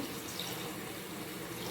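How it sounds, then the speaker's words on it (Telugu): Water pours steadily and splashes into a pot for lentil soup, a close, continuous rushing with no one talking. "ఇప్పుడు కొన్ని వాటర్ వేయాలి"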